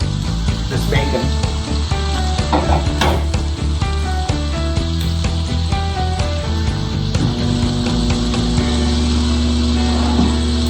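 Bacon sizzles and crackles steadily in a hot pan on a gas stove, a bright hissing spray running throughout, with a humming tonal background underneath.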